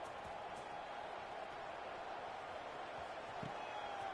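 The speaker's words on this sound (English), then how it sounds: "this crowd is buzzing after that last score" Steady, dense crowd roar fills a stadium in a college football video game against TCU, a continuous buzzing murmur at even loudness with no distinct cheers or voices standing out.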